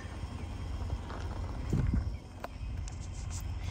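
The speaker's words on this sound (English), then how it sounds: "Even horses out and about." Horse hooves clip-clop at a walking pace amid outdoor ambience, a few louder steps near the middle.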